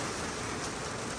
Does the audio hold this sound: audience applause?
no